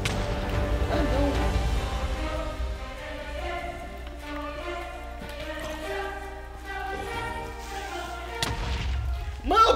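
A Minecraft creeper explodes in the video game, a heavy booming blast over a steady game soundtrack, with a further deep burst and some crashing near the end.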